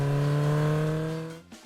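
A motorcycle ridden to school pulls away, its engine a humming tone that holds briefly and then fades out, followed by a soft thump.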